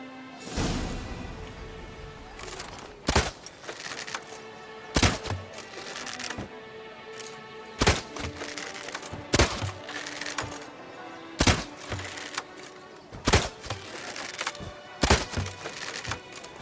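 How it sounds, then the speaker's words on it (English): Shots hit targets in The Witcher 3: Blood and Wine, several sharp cracking impacts that come at a steady rhythm every second or two over a continuous ambient game background. "Hit the red targets!"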